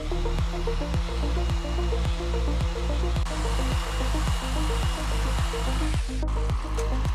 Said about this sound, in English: Use your sander to clean up the rest.